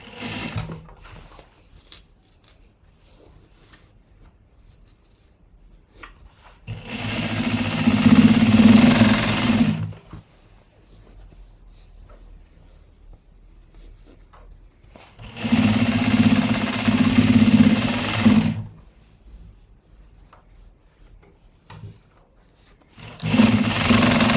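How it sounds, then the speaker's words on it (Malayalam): An electric sewing machine stitches folded old cloth in three loud, steady bursts of a few seconds each. Quieter pauses with faint handling noise fall between the bursts. "ഇനി ജസ്റ്റ് ഇതൊന്ന് ഇങ്ങനെ മടക്കിയിട്ട് ഇങ്ങനെ തയ്ച്ചെടുക്കാം കേട്ടോ"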